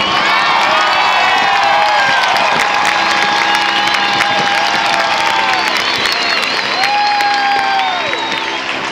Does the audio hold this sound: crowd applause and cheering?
yes